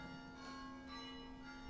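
A church bell in Madeira rings for Sunday mass, a faint sustained metallic tone heard from a distance in a quiet indoor room.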